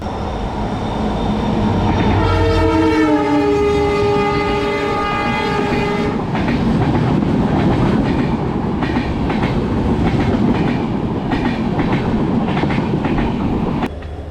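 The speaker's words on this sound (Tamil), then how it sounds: "இந்த ரூட்டில் ஒரு ட்ரெயின் இந்த அளவுக்கு ஸ்பீடில் ஆப்ரேட் பண்ணுறான்னா அப்போ எவ்வளோ பெரிய ட்ரெயினாக இருப்பான்." A fast express train on the Konkan railway route roars past, sounding a loud sustained horn before its rushing wheels clatter steadily for several seconds, close and loud.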